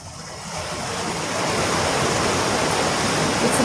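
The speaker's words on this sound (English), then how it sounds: "this rain is unbelievable" Heavy rain pours onto a greenhouse roof in a dense, continuous hiss that swells slightly and stays loud throughout.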